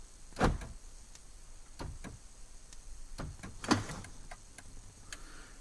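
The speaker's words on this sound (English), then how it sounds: "We can lock the doors 3 times." A series of short, sharp mechanical clicks and clunks from the door locks of a 2019-2023 Toyota RAV4, locked three times to trigger remote start, spaced irregularly, quiet with no voices.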